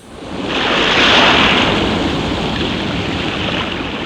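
Sea waves surge and break on a sandy shore at Chavara, Kollam, a loud continuous roaring wash that swells quickly and then holds as a broad rushing hiss, with wind noise and no voices.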